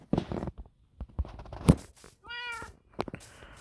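A cat in Minecraft meows in short, distinct calls close by, one of them a drawn-out meow, mixed with clicks and in-game footstep noises. Nobody speaks.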